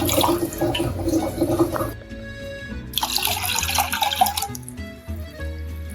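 Water is poured into a pot for cooking rice, a splashing, gurgling stream that stops briefly and resumes, close by and clear.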